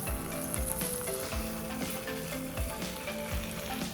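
Chickpea chana masala cooks in a pan with a constant soft sizzle and bubbling, broken by a few dull periodic knocks and scrapes of a spoon stirring, fairly quiet and with no voices.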